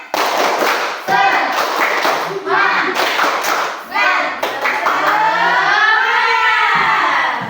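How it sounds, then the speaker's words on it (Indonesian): A classroom group of teacher trainees claps in sharp rhythmic bursts while chanting together loudly at close range, the claps punctuating the voices throughout. "Ayo, tepuk semangat, tepuk semangat."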